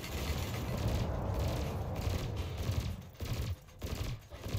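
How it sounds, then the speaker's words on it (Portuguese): Rapid bursts of video game gunfire in Elite Dangerous crackle steadily over a dense rumbling background, with shots coming in quick clusters and brief pauses. "tem tiro que tá pegando, tem tiro que não tá pegando"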